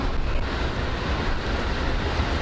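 An Amtrak train rumbles past in California, giving a steady, broad, wash-like roar with a low-end rumble at moderate loudness, constant through the short span with no voices.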